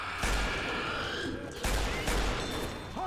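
Gunfire in a first-person shooter video game, heavy repeated shots in dense bursts with loud booming low ends, continuing across the whole stretch.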